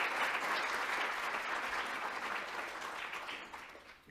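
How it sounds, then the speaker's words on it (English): A hall audience at an early childhood summit in Mechanics Hall, Worcester, applauds the panelists, a dense, sustained crowd applause at moderate distance that slowly fades toward the end. "Please join me in a round of applause for our panelists"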